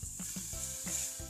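Vegetables and chicken sizzle in a hot pan with soy sauce and vinegar while being stirred for fried rice, a steady frying hiss broken by repeated scraping stir strokes, close and loud, no voices.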